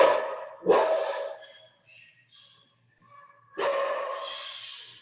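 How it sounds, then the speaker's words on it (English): A dog barks loudly and close by in two separate bursts with a quiet gap between them, heard on its own without speech. "That's my dog."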